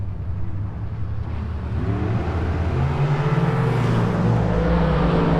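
A Dodge Viper engine hums and rises in a steady low drone, rumbling loudly alongside dragsters and other heavy motor noise at a busy race track.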